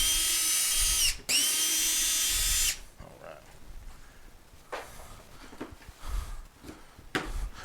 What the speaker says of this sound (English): I'm going to take a drill to take the pieces off